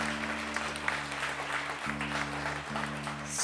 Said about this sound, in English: how about one more round of applause for Shaughnessy Cargyle, the first half of the show?